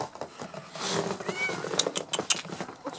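A nearby cat in the snow meows once, a drawn-out plaintive cry, followed by faint rustling and a few soft outdoor sounds.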